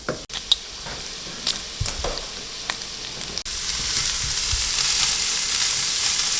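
Popiah spring roll filling being stir-fried and tossed in a pan, with scattered clanks and scrapes at first, then a loud, steady sizzle and hiss taking over in the second half.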